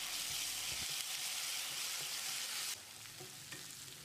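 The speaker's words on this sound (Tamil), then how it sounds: "இஞ்சி பூண்டு விழுது சேர்த்து பச்சை வாசனை போகிற அளவுக்கு நல்லா ஃப்ரை பண்ணிக்கலாம்." Loud, steady sizzling of paste frying in a hot pan, with occasional scraping of a spoon, easing slightly toward the end.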